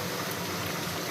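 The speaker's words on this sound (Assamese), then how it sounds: "একদম মানে পূৰা ভকভকাই উতলি আছে। এই শব্দটো যে মই বহুত বেছি ভাল পাওঁ" A pot of pork with elephant apple, cooked Assamese style, boils vigorously with a dense, continuous bubbling rush that stays loud and steady throughout, with no talking.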